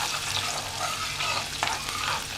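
Garlic, a pinch of asafoetida and turmeric sizzling in hot oil for a tempering before broccoli goes in, a steady close crackling fry with a few louder pops and no talking.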